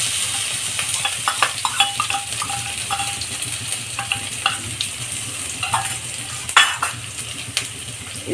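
Crushed garlic, ginger and green chili frying gently in oil for fresh green pea ghugni, with a steady sizzle and intermittent scrapes and clinks of a spoon stirring the pan, close and alone.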